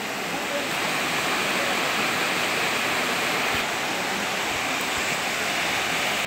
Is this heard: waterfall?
yes